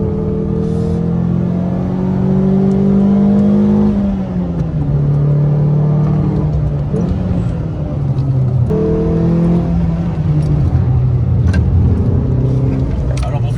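A small hot hatch pulls hard on a twisty blind road, its engine revving up through the gears with rising whines, a brief lift, and another climb. Someone talks over the engine noise.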